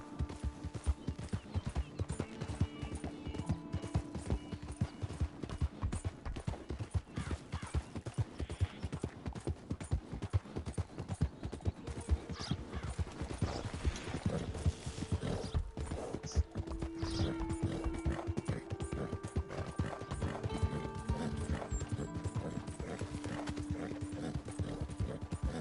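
Horse hooves clip-clopping in a video game, a steady rapid rhythm of hoofbeats running throughout, with faint mechanical clatter and a low musical background underneath.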